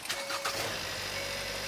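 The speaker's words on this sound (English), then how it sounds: "So as you can hear, the engine is running." A Hyundai Tucson with a fault that keeps it from accelerating past 1000 RPM starts up and settles into a steady idle, a brief cranking burst giving way to a constant close engine hum with no talk.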